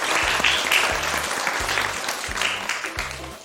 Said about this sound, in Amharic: ጎበዝ ሳላምላክ አጨብጭቡላት በደንብ